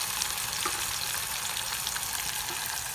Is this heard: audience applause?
no